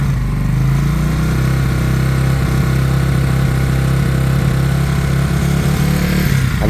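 A Huoniao HN125-8 125cc motorcycle engine idles steadily and loudly up close, a continuous low rumbling drone with an even pulse, awaiting a carburettor clean.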